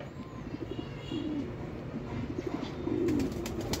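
Pigeons coo in repeated low, rolling phrases up close, with several soft throaty bursts over a steady ambient hum and no talk.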